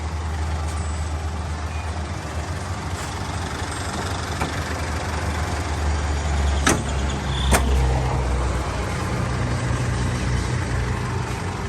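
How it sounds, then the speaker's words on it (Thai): A new car's engine idling with the hood closed, a steady low rumble holding even and smooth, with a couple of faint clicks partway through. "เครื่องนิ่งกว่าเดิมเรียบกว่าเดิมครับผม"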